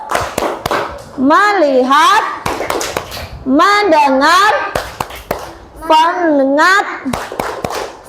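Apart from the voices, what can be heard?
classroom clapping chant, 'tepuk fokus'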